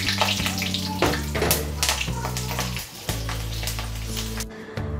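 Dried red chillies and bay leaves sizzle in hot oil for a tempering, a steady crackling fry with sharp spitting pops, heard close under a sustained musical background.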